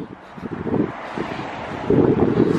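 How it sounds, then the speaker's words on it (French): Wind buffets the microphone in low, rumbling gusts that swell louder toward the end. "le vent il va casser les couilles."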